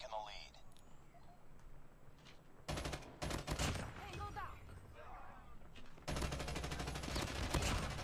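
Gunfire in the mobile shooter COD Mobile, with bursts of rapid automatic shots in two loud stretches separated by a quieter pause, close and punchy, as a player speaks over parts of the action.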